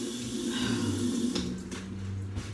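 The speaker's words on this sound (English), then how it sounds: "Rinse my hands real quick again." Tap water runs steadily into a sink as hands are rinsed between making pizza and tortilla dough, a continuous close splashing flow with faint clinks near the end.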